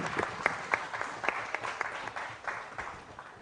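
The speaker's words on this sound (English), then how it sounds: "can we have a round of applause for all our respected speakers" Audience applause rings out at a convention hall, a steady patter of many hands clapping at moderate distance with scattered louder claps.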